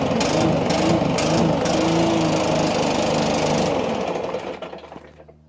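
A Stihl BR600 backpack blower with a throttle fault runs at a loud, rough, uneven idle that refuses to rev up, sputtering and fading out as the engine dies near the end, no talking.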